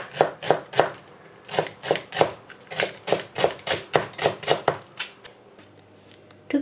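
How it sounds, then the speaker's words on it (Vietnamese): Knife chopping meat finely on a cutting board, a steady run of sharp, evenly spaced thuds, close and fairly loud, slowing and fading toward the end with no talk. "thịt nhuyễn ra luôn"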